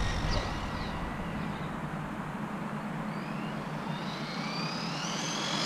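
A Traxxas Rally RC car on a 3S or 4S battery runs at full throttle, its electric motor giving a steady loud whine and roar with rising pitch sweeps as it accelerates past, constant throughout with no talking.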